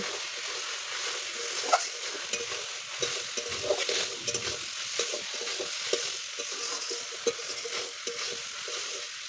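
Fried potatoes and soybean chunks being stirred and sautéed in a pan, a continuous sizzle broken by repeated scraping and clacking of a spatula against the pan, close and steady, with no speech.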